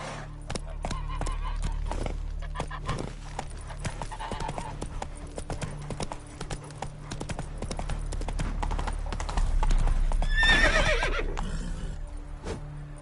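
In The Witcher 3 video game, a horse's hooves clop in a fast, rhythmic gallop, close and fairly loud, and a sharp neigh breaks out near the end.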